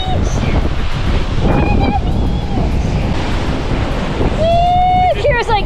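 Gulf of Mexico surf on the beach at Clearwater, Florida, a constant wash of breaking waves mixed with wind buffeting the microphone, with voices and dogs' excited whines rising over it.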